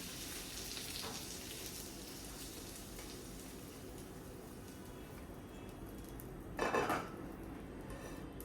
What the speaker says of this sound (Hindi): जितनी वेजीज हमने ये सॉटे की हैं इनको इसी प्लेट में वापस निकाल लेंगे